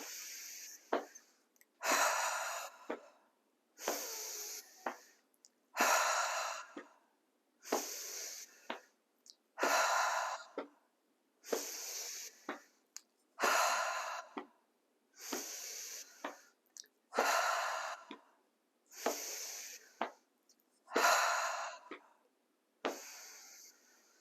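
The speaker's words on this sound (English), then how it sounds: "And when you're breathing, nice inhale." Deep, slow breathing during a Qigong exercise, about a dozen loud, close breath cycles in a steady rhythm, each an airy rush with brief gaps between.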